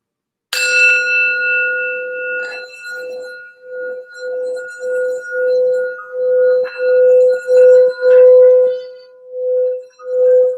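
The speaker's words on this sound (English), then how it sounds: "I just want to do a quick sound bell here for some grounding and healing." A bell struck for grounding and healing rings with a bright initial strike, then sustains a clear, steady tone that swells and pulses in a slow, regular wavering as it resonates alone.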